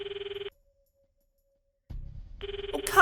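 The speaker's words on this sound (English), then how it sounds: "The footsteps overlapped with the sound of the ringing." A telephone rings in the Steins;Gate 0 video game, two short bursts of a bright electronic ringing tone separated by a pause, the second joined by low rumbling footsteps and a rising noise.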